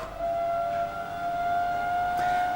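A tumble dryer's steady, high-pitched squeal from a slipping dirty belt, droning on at an even level over low mechanical rumble.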